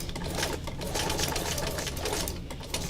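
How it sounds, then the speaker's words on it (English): A sewing machine does zigzag stitching around butterfly shapes, its needle hammering in a fast, steady, close mechanical chatter that runs throughout without a break. "I'm going to do a little zigzag stitching around the butterflies"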